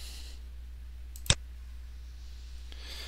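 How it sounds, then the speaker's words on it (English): One sharp, quiet click of a computer mouse's middle button over a faint steady hum. "And I'll just middle mouse click and make it"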